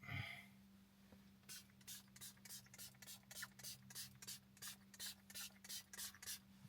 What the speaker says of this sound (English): Then we'll take and spray it.